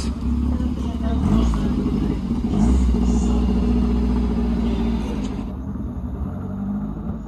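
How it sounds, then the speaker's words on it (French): A very low-slung Lotus 7 sports car pulls away at a château car gathering, its engine rumbling loud and close before easing off as it leaves, while someone talks over it. "Voilà une Lotus maintenant qui s'en va, Lotus 7."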